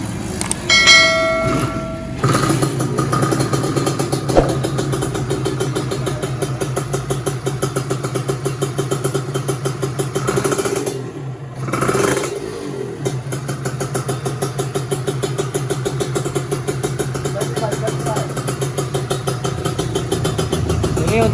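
A 1996 Kawasaki Ninja motorcycle with a large carburettor starts up and settles into a loud, steady, slightly choked idle, with revving swells near the middle.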